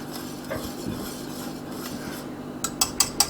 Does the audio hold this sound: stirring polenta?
yes